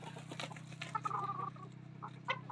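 Chickens clucking on a Thai poultry farm where many pairs of birds roam, with soft intermittent clucks and calls over a steady low hum, moderately close.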